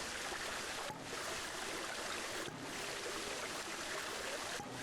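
Water pours at the top of a waterfall in Planet Zoo as a steady, broad rushing flow. The hiss is fairly soft and continuous, with no one talking over it.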